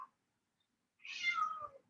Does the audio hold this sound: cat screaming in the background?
yes